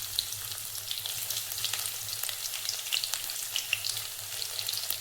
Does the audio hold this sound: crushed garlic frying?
yes